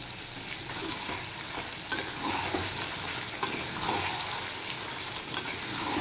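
Chicken pieces and tomato sauté in a hot pan for a chicken curry, with a dense, steady sizzle and frequent stirring scrapes that stay loud and close throughout.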